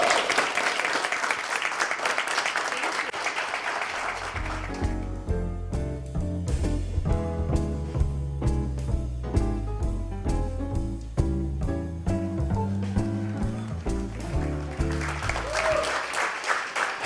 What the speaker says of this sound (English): Let's have a round of applause for that drink,